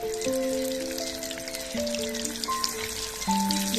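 Eggplant pieces frying in oil in a wok, a steady close sizzle and crackle throughout with a few brighter pops, while sustained background music tones play over it.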